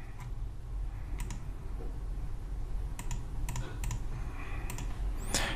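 Keys on a computer keyboard are typed in short clustered bursts of crisp clicks, a command being entered, with gaps between the groups over a low steady background hum.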